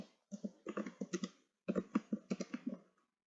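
Two quick bursts of typing on a computer keyboard, each a rapid run of sharp, close key clicks, with a short pause between them.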